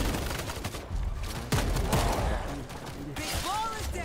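A sporting carbine fires in a quick series of sharp, close shots packed into a few seconds, with a short whistling tone near the end.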